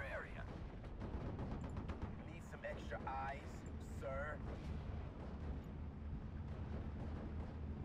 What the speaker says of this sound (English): That mortar spam is horrible.